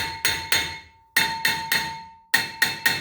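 A hammer strikes a rusted brake rotor on a 2009–2014 Ford F-150 eight times. The sharp metallic taps come in quick pairs and triples, each ringing briefly before the next, loud and close.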